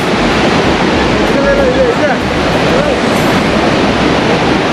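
A loud, continuous roar of rushing mountain river water near a bridge on the trail from Gaurikund to Kedarnath fills the scene, steady and close, with faint sounds barely poking through.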